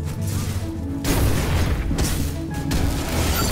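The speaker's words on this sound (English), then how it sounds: "Time to beat some more people up with my exploding claws." Exploding claw blasts in the video game The Surge: a loud, close booming burst followed by a second hit and then a third, over steady game background rumble.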